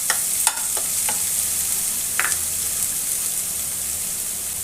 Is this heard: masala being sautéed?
yes